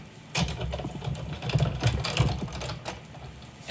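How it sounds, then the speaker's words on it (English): A die cut machine cranks paper through for a shaker card, a close, rhythmic mechanical grinding and clicking that runs continuously for a few seconds. "let me grab my die cut machine again."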